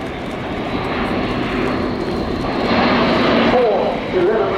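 A fixed-wing aircraft, a turboprop attack and demonstration plane with a 1,100 horsepower engine, flies past at an air show as a steady loud engine roar over crowd ambience, with a public-address announcer talking over it.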